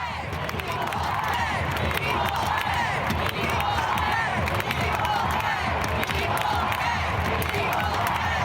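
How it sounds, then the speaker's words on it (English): A dense, steady stadium crowd roars and chants without pause after the U.S. women's team beat the Netherlands 2-0 in the Women's World Cup final, a loud, close wash of many voices. "members of the crowd began chanting, "Equal pay, equal pay.""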